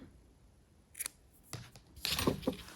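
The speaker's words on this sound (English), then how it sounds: "then cut off your yarn" Scissors snip through crochet yarn in a few crisp, close cuts spread over a couple of seconds, with a brief rustle at the end and no talking.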